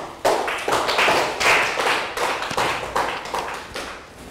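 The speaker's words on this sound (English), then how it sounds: "Round of applause for Chu." Brief burst of clapping from a small group in a classroom, a few seconds of uneven hand claps close by.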